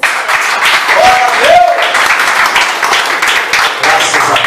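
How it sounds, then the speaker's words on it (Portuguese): Church congregation applauding in a Brazilian evangelical service, a moderate continuous clapping under a brief sung or spoken voice, fairly close and loud. "Aplausos, Senhor Jesus"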